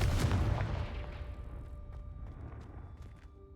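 A Confringo fire spell blast in the Hogwarts Legacy video game bursts out loud at the start, then rumbles and decays into a fading, crackling tail with faint scattered pops.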